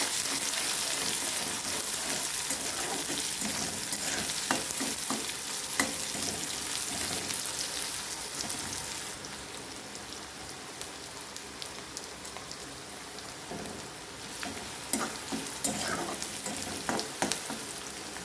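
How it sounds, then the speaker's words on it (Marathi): Chopped onion sizzles and crackles in a pan for a Marathi cluster-bean vegetable dish, a continuous dense fry with repeated scraping stirs, loud at first and easing slightly halfway, with no voices. "एक कांदा मी कट करून घेतला होता तो ह्याच्यात टाकून घेऊया हे छान हलवून घ्यायचे"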